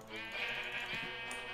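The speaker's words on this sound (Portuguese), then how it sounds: "Várias ovelhas." A sheep bleats in the video game Minecraft, giving one sustained wavering bleat for over a second, quiet and somewhat distant, with a faint soft bump near its end.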